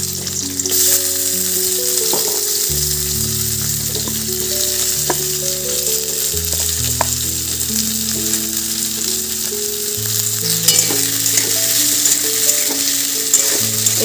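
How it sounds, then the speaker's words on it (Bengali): Chopped onion and potatoes sizzle steadily in hot oil in a wok after fish has been fried, a constant close crackle with occasional stirring scrapes, alongside a sustained background music tone. "এরপরে কড়াই আমি তেল দিচ্ছি, তারপরে দিয়ে দেবো পেঁয়াজ কুচি। আলুগুলো একটু ওর সঙ্গে ভেজে নেব।"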